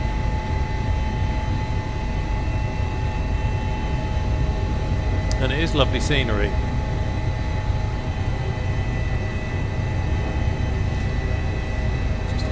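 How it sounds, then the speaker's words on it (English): Constant droning whine of an Airbus H145 helicopter's engine and rotor, heard from inside the cabin on an alpine flight over Chamonix and the Aosta Valley, steady throughout, with a person speaking briefly over it. "Just listening to the engine there."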